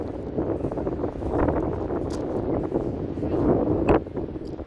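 Steady wind gusting and buffeting against the microphone at Brighton Pier, England, a continuous rough rumble with no one speaking.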